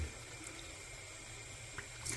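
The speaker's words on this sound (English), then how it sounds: "watch how fast I fill it up. I use tap water here in my city" Tap water runs steadily into the reservoir of an Ontel Miracle Smile water flosser, a continuous close hiss and splash heard alone with no talking.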